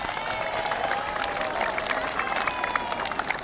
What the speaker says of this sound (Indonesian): Tepuk tangan bagi mereka semuanya.